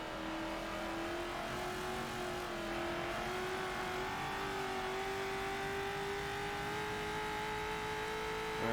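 Hot Wheels Bone Shaker car racing in Forza Motorsport 7, a continuous loud engine drone with steady revving and gradually rising pitch through gear pulls, heard up close and alone without any talk.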